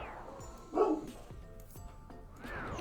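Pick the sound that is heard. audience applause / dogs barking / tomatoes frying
dogs barking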